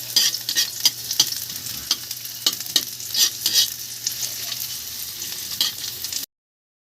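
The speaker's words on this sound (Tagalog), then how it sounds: "Luto tayo ng ginisang ampalaya. Yan, inuna ko yung sibuyas." Onion sautéing in a pan for ginisang ampalaya with egg, a steady sizzle broken by repeated stirring scrapes and clacks of the spatula, close and continuous before cutting out near the end.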